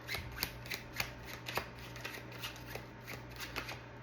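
Oracle cards shuffled by hand, a quiet run of crisp riffling snaps and slaps in an uneven rhythm, heard close and alone.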